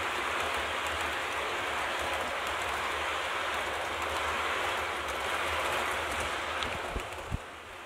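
An intercity passenger train on an IC service runs with a steady, broad rumbling roar, continuous and fairly loud throughout, with a couple of sharp knocks near the end.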